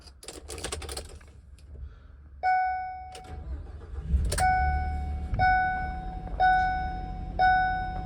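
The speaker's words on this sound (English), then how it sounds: "We'll fire her up and we'll check out all of its features" A 2018 Ford Transit 350 HD box truck cranks and settles into a low idle while a dashboard warning chime rings in short repeated bursts about once a second, along with scattered clicks from the cab.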